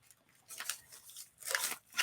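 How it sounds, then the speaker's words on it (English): Paper packaging is opened close up in several short crisp rustling and crackling bursts, quiet and irregular, with no talking. "Before I go too far, I'm going to open up the paper."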